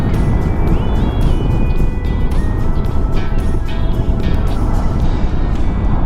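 A QJ Motor Fortress 400 maxi scooter on the road, its engine and wind roar constant and loud from the rider's position, with a rising whine of acceleration during an overtake.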